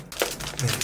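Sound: peeling protective tape off a Huawei MateBook D16 laptop

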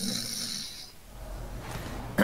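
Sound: person imitating a snore

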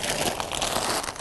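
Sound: cutting a protruding root while planting clematis

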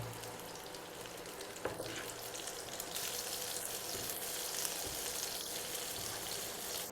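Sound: frying soya chunks on low flame

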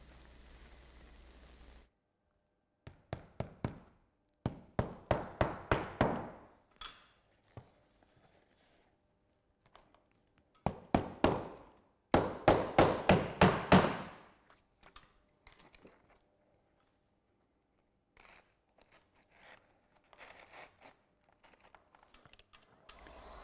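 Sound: nailing Onduline roofing ridge tiles

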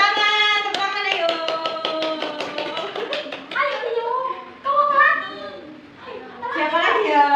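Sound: children clapping in class

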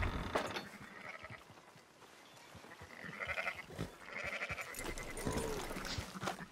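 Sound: sheep bleating in video game Red Dead Redemption 2

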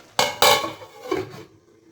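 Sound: covering a cooking pot with a lid

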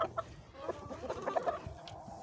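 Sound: chickens clucking in coop

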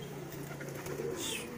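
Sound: racing pigeons cooing

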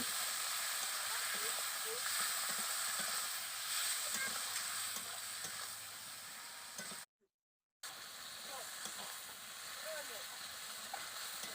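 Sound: frying chicken with turmeric, salt and chopped tomato

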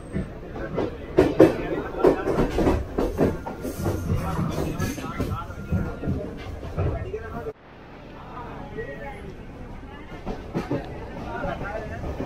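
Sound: train travelling from Colombo to Kandy

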